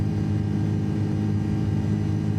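Steady, loud engine drone of an Airbus A330-200 airliner in flight over Sydney in Microsoft Flight Simulator 2024, a constant low hum and roar with no variation or talking.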